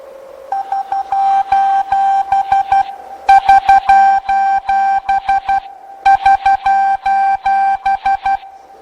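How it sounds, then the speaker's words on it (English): An SOS distress signal beeps in Morse code, a loud clear tone keyed in repeated groups of short and long pulses, three rounds separated by brief pauses. "SOS in Morse code."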